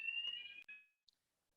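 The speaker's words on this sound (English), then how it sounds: "Sorry, there's an alarm going off there." An alarm going off during a test, sounding as a steady, piercing electronic tone for under a second with a brief break, fairly faint and alone, followed by silence.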